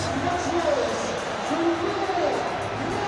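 A stadium crowd of 20,000 at KC Stadium for a Hull FC versus Leeds Challenge Cup rugby league tie, a broad, continuous murmur with occasional whistles and whoops beneath commentary.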